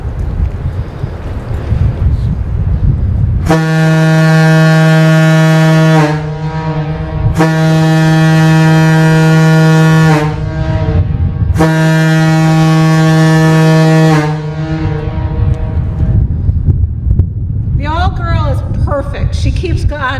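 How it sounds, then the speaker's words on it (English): The air horn of the submarine USS Silversides blasts three long, deep, droning tones, each held for several seconds with short gaps, loud and near, followed by wind noise. "we're going to start with the air horn of the sub"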